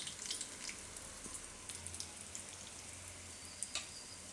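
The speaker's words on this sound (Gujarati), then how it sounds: "થોડુંક તેલમાં એ ફ્રાય થઈ જાય ને એટલે પછી ન ચોટે એકબીજાને" Idli batter bondas frying in hot oil hiss and crackle in a steady, close sizzle with scattered pops, heard alone.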